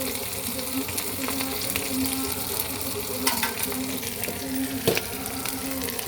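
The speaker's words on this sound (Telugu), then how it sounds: "అల్లం వెల్లుల్లి పేస్ట్ కాస్త వేగాలి" Ginger garlic paste frying in a pan, a steady close sizzle with scattered stirring scrapes and a couple of sharper clinks, no talking.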